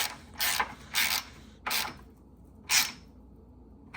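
A ratchet tightens a bolt on a drift car's bash bar in four short bursts of rapid clicking separated by pauses, close and clear with no talk.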